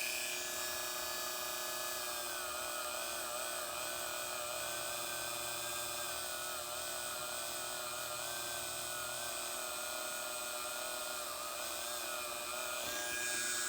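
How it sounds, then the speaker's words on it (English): A Dremel rotary tool spinning a soft brass brush at low speed against a lead-acid battery terminal, a faint steady high whine with scratchy brushing texture, continuous and without speech. "use a Dremel tool like this and a brass brush that's relatively soft"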